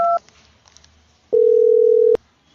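A telephone line tone during an outgoing call: a short two-tone beep, a quiet gap, then a loud steady tone held for under a second before cutting off abruptly.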